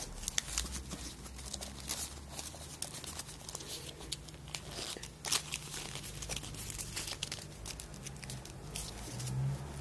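A sheet of paper is being creased into an outside reverse fold while an origami Diatrimax model is shaped. Soft, close crinkling and rustling with small crisp crackles runs continuously, quiet throughout.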